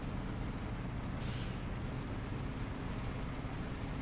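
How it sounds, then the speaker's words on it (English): A quick sharp hiss of truck air brakes in a PS5 trucking game, about a third of a second long, rising over a constant loud rumble of the engine and road. "I like the brake on the Derry Longhorn. That brake sounds really sick, cool too."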